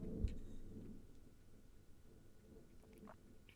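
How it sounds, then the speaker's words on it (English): Distant thunder gives a faint, low rumble with a brief swell near the start, then fades into a quiet background. "That was a very rumbly thunder happening."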